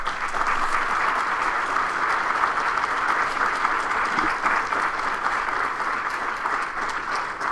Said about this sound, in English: deserves another round of applause for that wonderful talk.